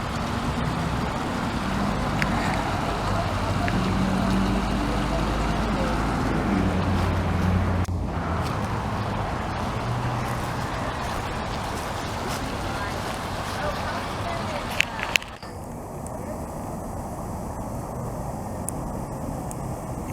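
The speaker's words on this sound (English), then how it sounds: "Look at that clear water running right there." A small waterfall in a clear creek at a nature sanctuary, rushing steadily and nearby while someone talks over it, with a couple of brief knocks toward the end.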